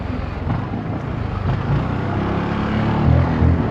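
Zontes 368G motorcycle with Malossi kit and full remap accelerates hard up close, a loud, rough engine roar rising and surging through the gears.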